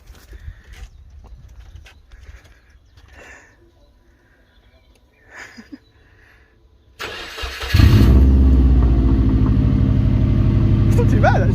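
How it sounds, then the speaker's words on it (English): A Subaru Impreza WRX hatch engine barks to life with an open exhaust and no muffler, producing a loud, raw, steady roar after quieter background noises and brief talk. "So we're just going to test it out with open exhaust, no muffler."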